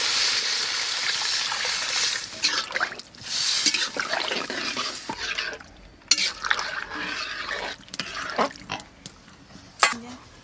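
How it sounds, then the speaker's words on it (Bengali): Water poured into a pot of small fish curry with vegetables, a broad bright liquid rush at first, then quieter splashes, drips and clinks of a vessel amid outdoor sounds. "এই জল দিচ্ছি"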